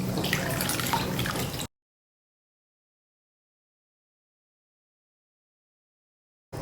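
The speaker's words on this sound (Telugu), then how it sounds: "చింతపండు, ఇది ఇలా గుజ్జులాగా తీసేసి ఈ రసం ఇందులో పోసేయండి" Squeezed tamarind juice is poured into a pot for brinjal raw rasam, a brief close, wet splashing trickle lasting under two seconds before silence.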